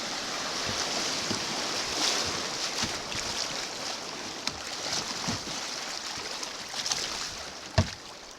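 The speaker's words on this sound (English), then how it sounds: "We're bouncing in the waves on the other side of the rapid." A kayak bounces through the waves just below a rapid on Antietam Creek, with steady rushing water and splashing close by. Occasional knocks and splashes from the hull and paddle stand out above the constant churn.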